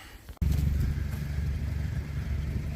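A tractor engine pumping water for an irrigation traveler runs with a steady low throbbing chug that abruptly jumps louder as it kicks in, then holds a pulsing rhythm nearby.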